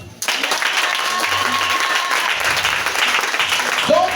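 A church congregation at a Sunday thanksgiving service bursts into loud, sustained applause that keeps going to the end, with a few voices mixed into the clapping.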